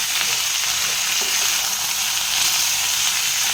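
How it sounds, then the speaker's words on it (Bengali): Chicken pieces fry in a pan with onion and capsicum, giving a loud, steady sizzling hiss that runs unbroken from start to finish, with no voices. "এবার চিকেনটা দিয়ে একটু ভাজা ভাজা করে নেব।"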